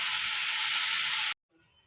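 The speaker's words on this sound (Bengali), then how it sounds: "রিফাইন তেল দিয়ে নিয়েছি, পেঁয়াজটা ভেজে নেব।" Onions frying in refined oil in a wok, a steady loud hiss and sizzle that cuts off abruptly, leaving faint quiet afterward.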